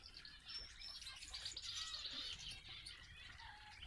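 Small finches, a goldfinch and a diamond finch, chirp and tweet in quick, overlapping bursts, faint and close, with no talking.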